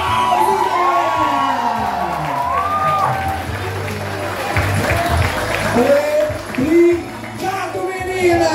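A crowd at a running race's award ceremony cheers and applauds, with clapping blended under excited shouts and children's voices, loud and close, swelling near the end.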